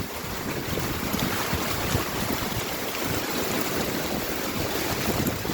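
Strong typhoon Kristine wind roars and buffets the microphone during a deep flood behind a house, heavy rain adding a dense, continuous hiss throughout.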